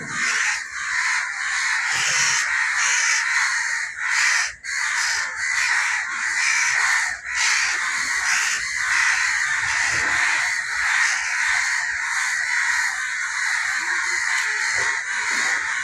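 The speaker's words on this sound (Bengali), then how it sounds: "দেখুন ওর মা এখানে আসে কা কা করতেছে।" A crow caws again and again close by, loud harsh calls continuing without a break beside a net holding a trapped young crow.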